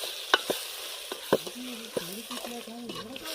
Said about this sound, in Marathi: आता सगळं मिक्स करून घेऊ